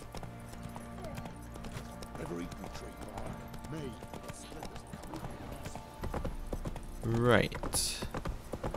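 Rhythmic clip-clop of galloping horse hooves in The Witcher 3: Wild Hunt under game music, with a horse whinny near the end and a brief spoken word.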